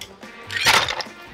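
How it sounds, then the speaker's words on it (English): Ice cubes crack and rattle inside a cocktail shaker while a sour apple martini is shaken, a dense burst of clinking and crunching peaking midway, then tapering off with a few lighter clinks. "Breaking those ice cubes up."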